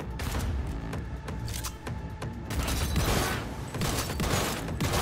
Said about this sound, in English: I shoot one time and get 300 damage.